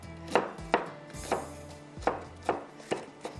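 A knife chops through food on a cutting board in a home kitchen while fish and oil are being prepared, with seven or eight sharp, evenly spaced thuds, close and clear.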